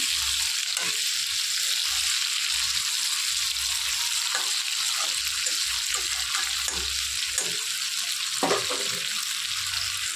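Thick chunks of potato frying in oil in a pan for a bottle gourd and prawn curry, a steady close sizzle with occasional light stirring taps.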